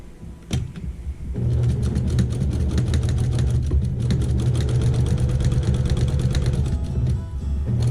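Sewing machine running steadily while stitching down a quilted table runner, a loud continuous mechanical whir with fast needle ticking that starts after a second and holds to the end.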